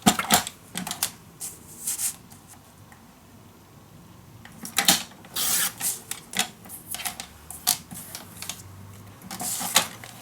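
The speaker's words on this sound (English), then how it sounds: "Cutting these little strips." Scissors cutting small paper strips for a scrapbook mini album, bursts of crisp snipping and rustling paper in irregular clusters, close and fairly quiet, with no talking.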